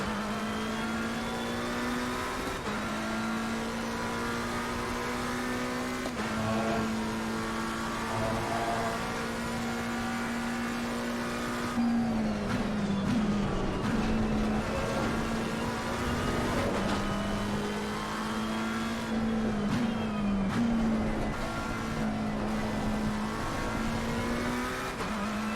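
Race car engine in a PS5 racing sim, droning steadily and revving up and down through repeated gear shifts over a long stretch, with no voices.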